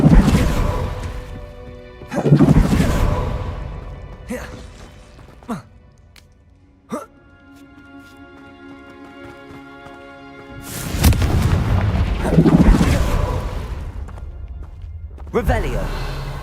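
Confringo spell blasts in the video game Hogwarts Legacy: two heavy booming explosions with long rumbling tails, a few smaller sharp impacts between them, and a quieter humming lull before the second big blast.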